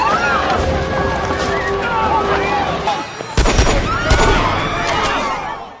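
A gunfight with Russian mafia members in an action film: sharp gunshot bursts crack out over the second half, mixed under an ongoing voice and dense soundtrack.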